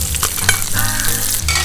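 Spices and garlic sizzling and frying loudly in a hot pan while being stirred for a Tamil fish recipe, steady crackle close by, no voices.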